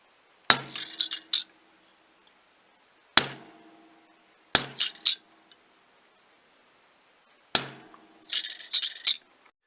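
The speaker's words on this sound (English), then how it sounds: "I'm just taking my punch and I continue to put triangles all around it" A metal punch struck with a hammer to stamp triangles into a brass plate: four separate bursts of sharp, ringing metallic taps, each a quick cluster of two to five blows, spaced by short pauses, close and loud with no talking.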